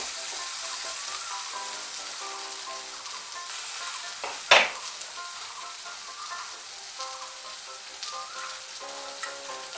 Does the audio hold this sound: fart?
no